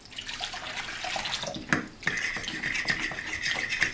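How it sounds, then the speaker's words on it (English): Hot tap water pours steadily into a cup while making pizza dough, a continuous close splashing rush with a brief louder burst midway and a brighter hiss as the stream settles. "I'm going to add 2 cups of hot tap water."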